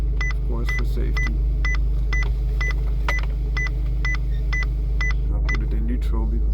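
A steady series of evenly spaced electronic parking sensor beeps from a 2016 Abarth 595C Turismo near a wall repeats over a low engine hum, with a voice talking faintly underneath.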